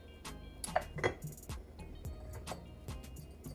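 Lemon slices dropped into a glass, giving a few light clinks and taps against the glass along with small handling noises, close and quiet, with no talking.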